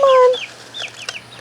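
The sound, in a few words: chicken clucking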